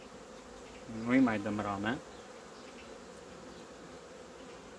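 Honey bees buzz from an opened hive headed by a black queen. A steady low drone runs throughout, while someone talks briefly in the middle and then stops.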